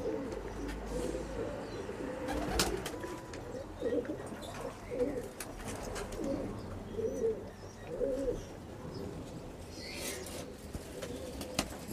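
A Pakistani Teddy racing pigeon coos in repeated low, throaty phrases that swell and fade several times, close by over light background noise and occasional sharp clicks.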